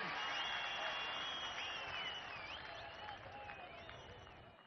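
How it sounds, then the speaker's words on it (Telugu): A rally audience applauds with a faint, distant wash of clapping and crowd noise, mixed with raised voices and whistle-like calls, that slowly fades away. "చేద్దామనుకుంటే గట్టిగా చప్పట్లు కొట్టి మేము చేయగలుగుతామని చెప్పండి."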